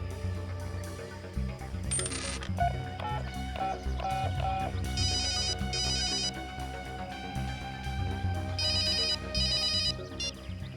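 An electronic ringtone plays in short melodic bursts over a busy background of music and ambient sound, fairly loud and continuous.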